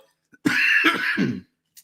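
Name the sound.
cough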